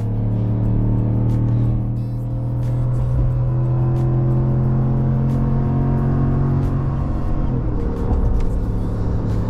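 Ram 1500 pickup with the 3.0L Hurricane twin-turbo inline-six and 3.92 gears, towing a trailer loaded with a toolbox, pulls hard under full throttle; a loud, steady engine drone rises in pitch from inside the cab, with no talk.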